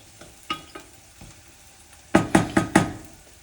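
Potatoes frying in oil in a small kitchen for patatas bravas: a soft sizzle under a few scattered taps, then a quick run of four sharp scrapes or clacks as the pieces are stirred in the pan.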